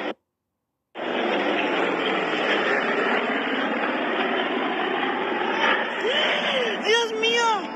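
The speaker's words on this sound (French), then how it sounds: "donc un beau crash d'avion quand même, vous avez vu" A plane crashing at an air show: a sustained, loud roar of engine and crowd noise runs throughout after a brief silence, with rising and falling shouts or screams near the end.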